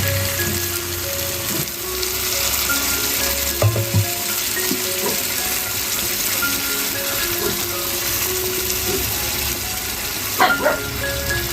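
Beetroot and carrot simmering with a little water in a pan give a steady sizzling, bubbling hiss with occasional stirring clatters and a louder scrape near the end, alone without talk.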